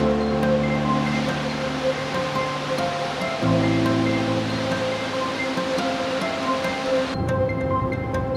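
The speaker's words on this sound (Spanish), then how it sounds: "Esa cascada estuvo genial." A waterfall pours continuously in a steady, loud rush of falling water, broadband and unbroken, with a low rumble shifting slightly partway through.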